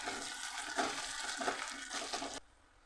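Garlic paste sizzles and fries in a pan while being stirred, giving a continuous hiss with soft scraping strokes that stops abruptly near the end.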